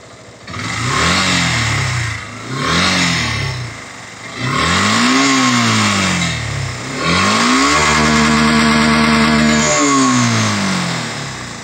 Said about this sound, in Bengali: এটা হচ্ছে সাউন্ড আর কি আমাদের ইঞ্জিনের।